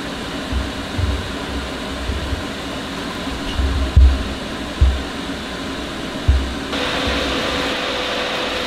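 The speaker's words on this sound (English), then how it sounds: "Okay, so this is the Vortex 8-inch inline." Vortex 8-inch inline fan rated at 750 CFM venting a grow garden, a loud, steady broadband airflow rush with low thumps and knocks scattered through it, shifting to a brighter whooshing tone near the end.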